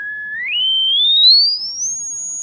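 A pure electronic test tone holds steady, then sweeps smoothly upward to a high, piercing pitch around 7,500 hertz and stays there, loud and alone with no talking.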